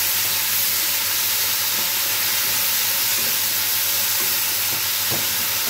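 Food sizzles in a pan with salt and turmeric while being stirred, a dense continuous hiss with occasional scraping knocks, steady and close throughout.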